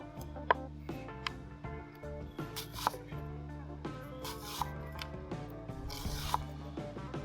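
A knife slices a sweet onion thinly on a cutting board, making quiet, crisp ticks and taps in an uneven rhythm over a soft tonal background, with no talk.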